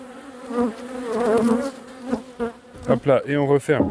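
Honeybees at a spring apiary buzz close by while frames are handled at the hive, a loud wavering drone with a voice speaking briefly near the end.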